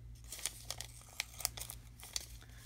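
A sheet of paper is cut in half at a desk, giving a quick series of soft, crisp snips and crinkles, close and quiet.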